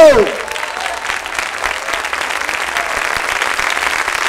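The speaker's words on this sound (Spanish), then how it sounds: "Ponte de pie y dale un fuerte aplauso a Jesucristo." A large church congregation applauds steadily throughout, a dense wash of clapping with some voices mixed in, after a brief spoken tone at the start.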